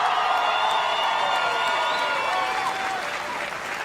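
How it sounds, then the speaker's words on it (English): A large crowd at a CrossFit Games announcement for the first female champions applauds and cheers loudly and steadily, with whoops mixed in and a voice over the noise. "Guys, let's give them one more round of applause."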